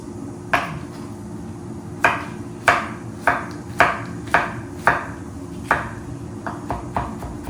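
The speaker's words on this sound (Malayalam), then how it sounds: "അപ്പം ഞാനിവിടെ മത്തം നന്നായിട്ട് ചെറുതായിട്ട് മുറിച്ചെടുത്തിട്ടുണ്ട്." A knife chops pumpkin into small pieces on a board for pumpkin thoran, about a dozen crisp, close knocks at a fairly even pace, slowing then quickening slightly near the end, over faint background noise and no talking.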